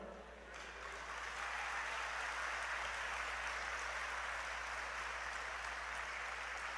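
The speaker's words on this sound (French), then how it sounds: "c'est l'applaudissement le plus long" Long, sustained applause from an audience at a university graduation ceremony, a dense, even wash of clapping heard from a distance that builds slightly at the start and then holds steady.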